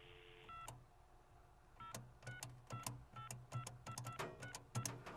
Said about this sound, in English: and then dial a number